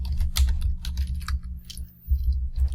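Fingers type on a computer keyboard up close, a quick irregular run of light key clicks over a low steady hum.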